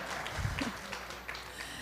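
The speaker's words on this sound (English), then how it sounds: "give them a round of applause" An audience applauds at an evening event at Bowie State University, a steady wash of clapping held at a moderate, even level for the whole stretch, with no one speaking over it.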